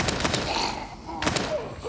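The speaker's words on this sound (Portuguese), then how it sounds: "Deixa eu tentar dar um tiro de perto." Gunfire in the survival horror game Daymare 1998, with a few sharp, loud shots fired at close range in quick succession amid game ambience.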